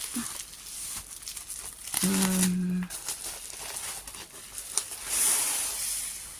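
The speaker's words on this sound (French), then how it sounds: "Alors, on va retirer le papier bulle." Close, intermittent crinkling and rustling of bubble wrap being pulled off and handled, with a short squeaky tone partway through.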